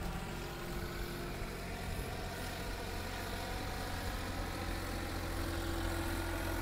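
A Massey Ferguson 260 tractor engine runs steadily with a continuous low diesel drone and constant loudness throughout, with no talk over it.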